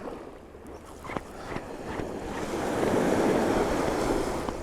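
Waves wash ashore at Eastney Beach near low tide, a continuous surf roar that swells louder midway, with wind buffeting the microphone and no talking.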